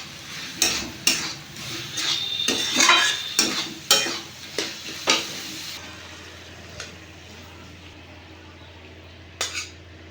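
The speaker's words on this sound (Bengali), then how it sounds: "ওপর থেকে আমি অল্প ঘি ছড়িয়ে দেবো নাড়ি চালিয়ে নামিয়ে হয়ে গেছে আমার" Repeated close scrapes and clinks of a spoon stirring banana flower curry with ghee in a metal pan, over a soft sizzle, then the stirring stops and only a quiet hum and a final clatter remain.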